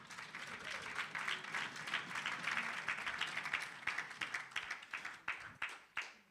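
Audience applause at a women in sport summit, a dense wash of clapping that holds steady and then thins into scattered individual claps toward the end.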